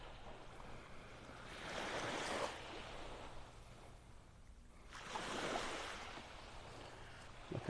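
Ocean waves wash onto a beach in North Naples, Florida, two slow swelling surges of surf rising and fading over a steady low rumble, with light wind on the microphone.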